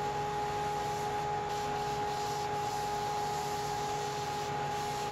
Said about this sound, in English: instead decided to sand each piece at my stationary belt sander